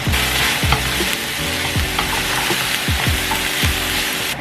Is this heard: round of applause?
no